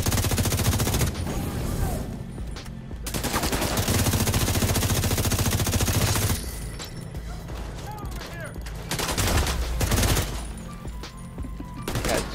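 Rapid automatic gunfire and weapon mechanisms rattle through a firefight in The Division 2's Tidal Basin stronghold, loud and nearly continuous with brief pauses, while a player shouts over it.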